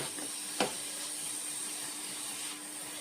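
Sliced onions with two green chillies sauté in a hot pan, giving a continuous soft sizzling hiss with a faint tap early on, steady and moderately quiet.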